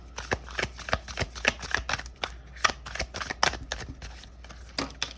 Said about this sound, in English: That was more of my fault, the way that I was shuffling.